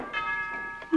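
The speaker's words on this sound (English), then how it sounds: "Why would Alan be ringing the doorbell" A home doorbell rings once indoors, a clear tonal chime sustained for most of a second, fairly close and heard alone without talk.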